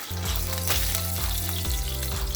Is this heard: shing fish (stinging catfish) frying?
yes